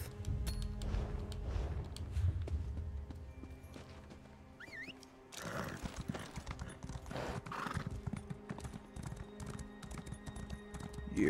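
Horse hooves clip-clopping at a steady walking rhythm in the video game Elder Scrolls Online, with a horse's whinny partway through, close and continuous over game ambience.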